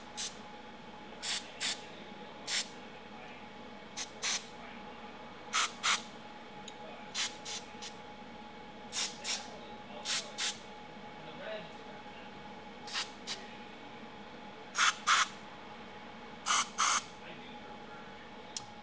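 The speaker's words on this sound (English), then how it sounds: "now I'm gonna lube all of my pivot points, which are in the manual, with the VDM18" Short bursts of VDM18 lubricant sprayed onto the pivot points of a ROQ automatic screen-printing press during maintenance, about a dozen quick hisses in an irregular rhythm, close and clear over a faint background hum.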